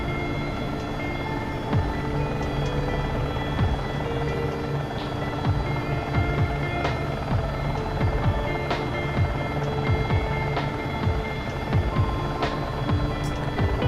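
An AS350 B3+ helicopter in a flight simulator taxis with a steady, loud rotor and turbine drone, a continuous thrumming hum with faint rhythmic blade pulses throughout.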